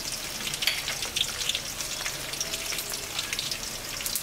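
Whole spices such as cinnamon, cloves, cardamom and stone flower frying in ghee for jackfruit biryani give a steady, close, dense sizzle and crackle throughout, with no talking.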